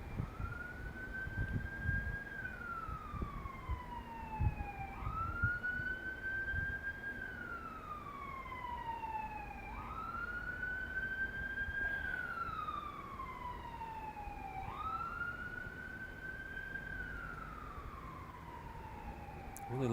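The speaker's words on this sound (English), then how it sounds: "I really like to run those sirens." A police siren wails in a repeating rise-and-fall cycle, each sweep about five seconds long, sounding steady and moderately distant with traffic rumble underneath.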